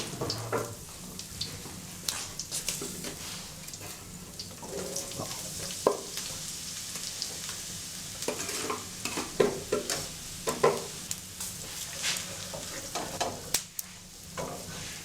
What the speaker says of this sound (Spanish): vamos a probar el verdeo. Y ya le tiramos la cebolla también